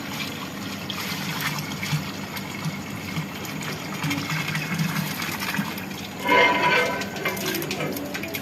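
Five liters of chicken broth from boiling chicken for haleem pour into a large pot of water: a steady, close liquid trickle and splash that runs throughout, swelling into a brighter gush near the end.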